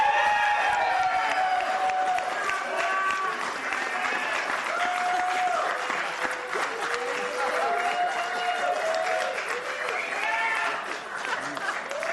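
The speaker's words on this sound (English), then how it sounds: "It's quite a cheering section you have there, Bruce." An audience at a town council meeting breaks into sustained applause and cheering for a man honored for 30 years of service, steady dense clapping with whoops throughout, loud and continuous.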